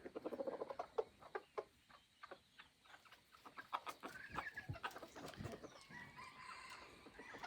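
Chickens cluck and scratch close by in a farmyard, with quick, irregular clucks and pecking patter, faint and unaccompanied by talk.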